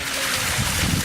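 Water tumbling down a garden pond waterfall built from large rocks gives a steady, close rushing splash that fills the whole moment without a break.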